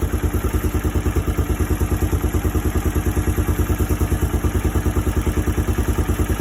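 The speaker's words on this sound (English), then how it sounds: "Holy crap, it just kicks over. It's not done that since I've had it." A Kawasaki KLF300 Bayou 4x4 ATV engine runs steadily at idle up close, a fast, even, thumping single-cylinder chug with light mechanical clatter and no voices.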